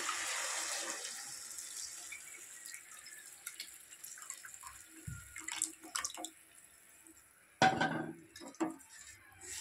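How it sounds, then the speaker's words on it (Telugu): Thick tamarind juice being poured into a pan of korameenu fish curry, giving soft, faint wet drips and splashes with a few light clinks of cookware, no talking. "ఇప్పుడు ఇందులో చింతపండు పులుసు అనేది పోసి మంచిగా ఉడికించుకుందాం."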